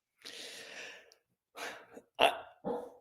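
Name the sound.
dog barking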